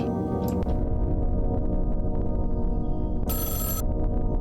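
Telephone bell ringing in the horror role-playing game Mothered, a loud repeated ring over a steady game soundtrack, with bright bursts near the start and again toward the end.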